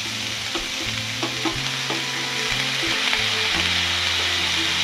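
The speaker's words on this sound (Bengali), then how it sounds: "এবার পেঁয়াজ কলির সাথে আমাদের বাকি সবজিগুলোকে একসাথে আরও ভালো করে ফ্রাই করে নেব।" Potatoes, cauliflower and spring onion stalks fry together in a pan, a constant loud sizzle broken by repeated scraping strokes of a spatula stirring the vegetables.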